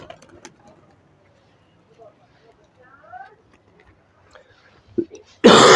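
Star pigeons in a breeder loft give soft, faint coos amid a mostly quiet space, with light handling sounds and a sudden loud burst of noise at the very end.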